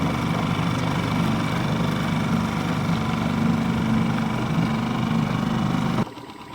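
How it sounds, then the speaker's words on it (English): A boat motor runs steadily at slow speed during late-summer catfish jugging, a loud close continuous drone that drops off abruptly near the end. "But this motor's working on really slow speeds."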